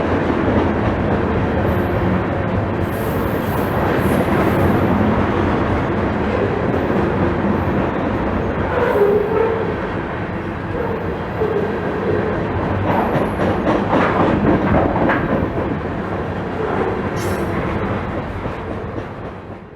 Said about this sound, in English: CSX Q301 is a manifest train that runs from Oak Island, New Jersey to Rocky Mount, North Carolina.